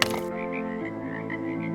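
Frogs croak steadily at a pond, a dense, close chorus of rasping calls continuing throughout with no voices.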